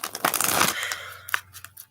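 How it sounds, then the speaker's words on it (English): Tarot cards shuffled by hand, a quick papery riffle and crinkle up close, fading to a few soft taps, with no talk. "Just gonna put some more shuffles down."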